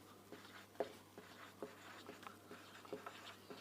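Quiet scratching of chalk or marker on a board during a geometry lesson on circles and tangents: faint irregular strokes and taps over a low steady hum.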